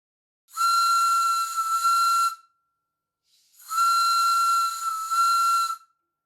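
A steam whistle on a Castle steam boiler plant gives two long, loud, steady blasts with a hissing edge, separated by a short pause.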